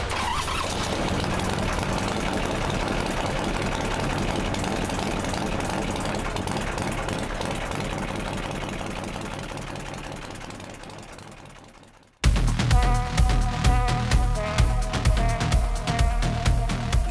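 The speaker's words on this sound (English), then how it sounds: "Full throttle pull and see if the clutch holds." A built 131ci Twin Cam motorcycle engine roars at full throttle on a dyno, a loud, steady, rising howl for about twelve seconds that cuts off abruptly before a rougher, pulsing idle.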